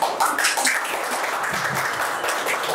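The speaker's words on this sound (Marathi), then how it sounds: "जोरदार टाळ्या." Loud, sustained applause from a group at a yoga training camp, dense clapping filling the whole moment at close range.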